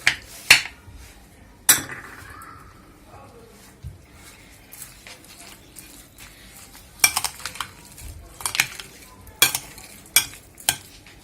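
A chicken and onion filling for stuffed peppers is stirred in a bowl, with scattered sharp clinks and scrapes of a utensil separated by quiet gaps, the sounds growing busier toward the end.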